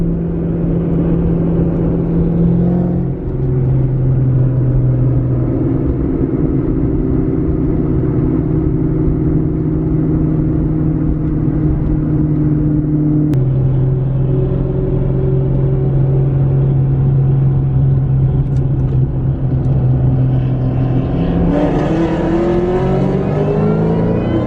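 A 600+ HP Ford Cobra's engine rumbles loud and close during a drive, holding a steady deep drone with pitch shifts at gear changes and a rising rev toward the end.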